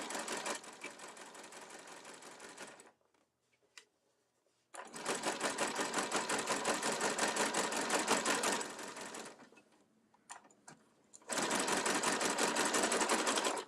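A sewing machine top-stitches bullet fabric, a sturdy polyester twill, in three long loud runs of rapid motor-driven stitching with short quiet pauses between them.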